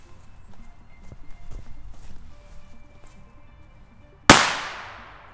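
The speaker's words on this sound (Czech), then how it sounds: "Teď už jdeme teda na odpal petardy Doom Boom Micro." A single Doom Boom Micro firecracker goes off as one sharp, loud bang that trails into a short decaying echo, after quiet ambient noise and faint footsteps outdoors.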